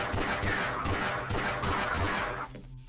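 A gun in the Half-Life video game fires in a rapid series of heavy, evenly spaced bangs, loud and close, that stop abruptly near the end.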